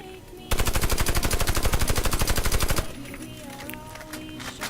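Rapid automatic fire from a ZX84C in the shooter game Warface, a loud continuous burst of closely spaced shots lasting about two seconds, then quieter game ambience.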